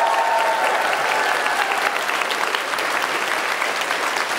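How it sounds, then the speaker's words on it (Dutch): Loud, sustained applause from a crowd at a year-end comedy show in the Melkweg venue, a thick, even wash of clapping with some cheering that carries on without pause. "Applaus voor jezelf, namens de hele redactie."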